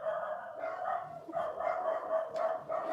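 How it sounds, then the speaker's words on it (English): Several dogs bark in quick, overlapping bursts a short distance away, a steady chorus of yaps with no talking. "Who are they barking at?"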